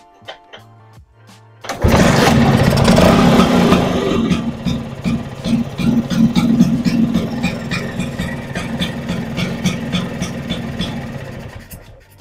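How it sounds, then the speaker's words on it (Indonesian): A Vespa scooter engine fires up after a carburetor tune-up, jumping from quiet to a loud, steady running note that settles into an even idle with a slight flutter, recorded close by at night. "mesin sudah nyala normal"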